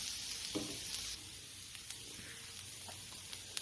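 Smash burger patties frying on a hot griddle, a soft continuous sizzle with faint scattered pops and a few light utensil taps, quiet and without talk.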